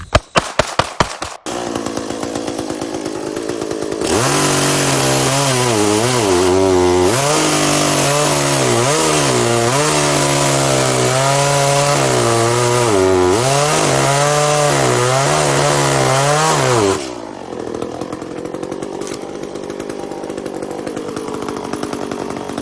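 A loud chainsaw with a chain needing sharpening starts after a few sharp clicks, then runs hard for about thirteen seconds with repeated revving surges before dropping back to idle.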